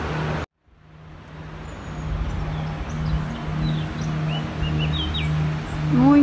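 Many small birds chirp and whistle in a park beside a river and dam, their calls scattered and fairly near over a steady low background rumble, with no talk.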